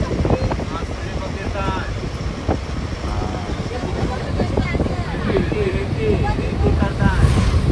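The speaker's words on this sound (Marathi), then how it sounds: "मालवणचा समुद्र किनारा." Strong wind buffets the microphone on the seashore at Malvan beach with boats nearby, a loud continuous roar with surf beneath and voices talking over it.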